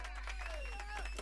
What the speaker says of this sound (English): Well, they're clapping at me